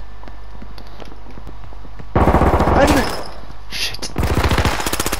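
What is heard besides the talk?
gunfire in the video game H1Z1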